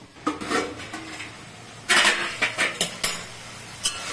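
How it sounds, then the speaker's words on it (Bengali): A metal lid clanks onto a cooking pot of gima greens with brinjal in a home kitchen, with a few sharp clatters at the start and then a cluster of louder knocks and rattles about halfway through. "একটু ঢাকা দিয়ে দিচ্ছি, 1 সেকেন্ড পরে নামিয়ে নিব।"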